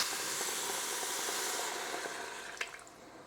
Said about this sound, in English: Now that's come up to a simmer